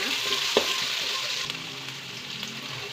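About one and a half onions frying in a pan, a continuous close sizzle broken by a few soft stirring knocks.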